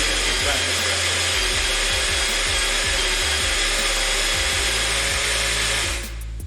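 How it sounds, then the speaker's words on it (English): A modified Barista 270 coffee grinder runs steadily while grinding espresso, giving a loud, continuous mechanical whir that cuts off abruptly near the end. "the Barista 270 is not always perfect for espresso, but I've actually modified it to grind espresso"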